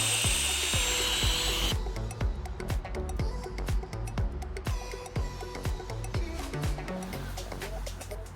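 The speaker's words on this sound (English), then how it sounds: "Use the burr grinder to remove the flare from this shaft." A burr grinder removes the flare from a steel guide rod shaft on a Mercedes-Benz W123 lower control arm, with a loud, steady high whine at the start giving way to rhythmic clicks and knocks.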